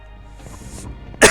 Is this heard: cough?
yes